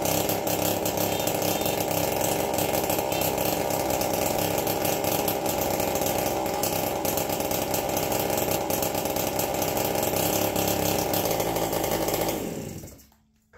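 APC mini chopper engine running with its muffler off, a loud, raw, rapid mechanical rattle held steady for about twelve seconds before cutting out abruptly at the end.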